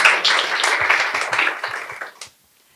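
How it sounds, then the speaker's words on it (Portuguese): An audience at a debate on the family's role in autistic children's development applauds the invited specialists, dense steady clapping that tapers off and stops abruptly, leaving silence. "Eu peço a todos uma salva de palmas para as nossas especialistas"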